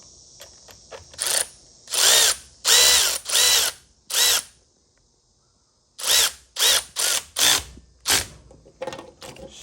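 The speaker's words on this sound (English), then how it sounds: "throw our electric ratchet. Make sure it's tightening." Electric ratchet tightening a bolt on a BMW E46 engine, a string of loud, close whirring bursts, each a second or less, with a few seconds of quiet splitting two groups of short pulses.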